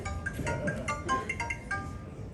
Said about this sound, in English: I like that ringtone.